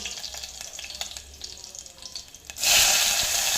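Cumin seeds and curry leaves drop into hot oil for menthya pulao and give a sudden loud, hissing sizzle near the end, after quieter faint kitchen crackling.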